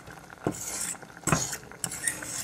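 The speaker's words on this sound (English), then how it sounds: "Just mix up the ketchup in the pot." A spoon scrapes and knocks against a cooking pot while ketchup is stirred into simmering mackerel, giving a few sharp, irregular clinks between softer scraping sounds, fairly close.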